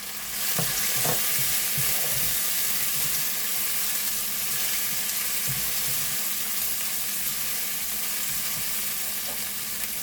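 Ginger-chili paste sizzling in hot oil in a pan for a zucchini curry, a steady close crackling hiss with a few soft stirring knocks, no voices.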